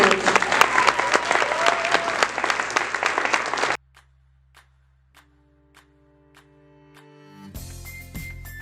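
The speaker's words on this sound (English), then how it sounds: "Round of applause for these guys." Loud, dense applause from a crowd at a school awards ceremony fills the first few seconds, then cuts off abruptly, leaving a few soft ticks and a low hum.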